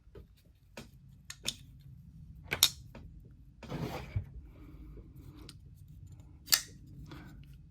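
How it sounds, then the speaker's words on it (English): A knife slices through paracord with quick, quiet cutting sounds: several brief sharp snips and one longer rasping pull, close by in an otherwise quiet room. "Watch how easy this will cut through the paracord."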